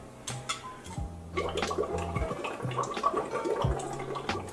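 Air being added to Kangen water during a demo gives gurgling, bubbling liquid sounds with a few low bursts, loudest in the second half, with no voices.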